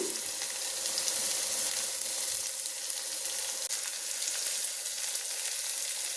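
Carrot and raw banana pieces fry in a pan with salt and turmeric, giving a steady, close sizzle with faint stirring throughout and no talking.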